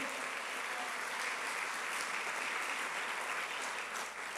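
A church congregation applauds steadily and loudly at a Sunday service, a dense even wash of clapping that holds for the whole stretch without a break.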